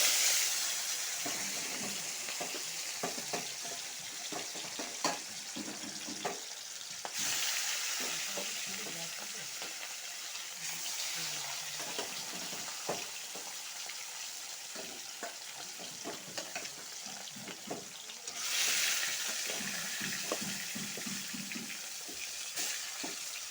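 Catla fish frying in hot oil in a pan, with a steady dense sizzle throughout, intermittent utensil clatters and stirring, and brief surges of louder crackling; no one talks.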